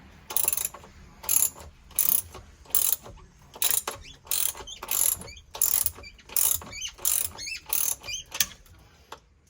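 Ratchet wrench backing out bolts on a 2021 Yamaha SX190 boat part, a run of about a dozen close, loud, rapid clicking bursts with short pauses between them, no voices.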